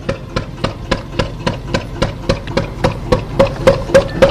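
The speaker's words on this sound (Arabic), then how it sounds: "ما شاء الله الصوت هذا مميز، يعني له تاريخ الصوت هذا. هذه ماكينة بلاك ستون" An old Blackstone engine at a heritage village well runs with a steady, evenly spaced thumping knock, about three beats per second, loud and close with no voices.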